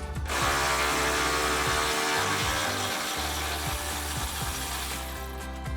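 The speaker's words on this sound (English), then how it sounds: "We're going to use a 13mm socket and a ratchet." Ratchet with a 13mm socket removing a bolt while installing a retractable bed step on a 2021-2026 Ford F-150, a close, continuous clicking of the pawl over several seconds with intermittent heavier knocks.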